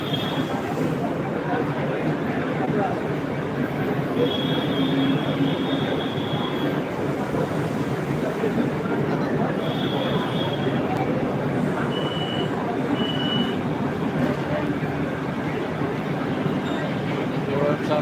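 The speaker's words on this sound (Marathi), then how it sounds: "हे बघा ट्रेन आलेली आहे" A continuous, steady rumble of a train rolling past nearby, with occasional faint high tones above the broad noise.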